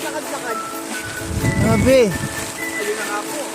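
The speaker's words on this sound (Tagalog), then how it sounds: "Ang lakas ng ulan." Heavy rain pours steadily at a campsite in Tanay, a broad continuous hiss with a brief louder swell midway, while a person speaks over it.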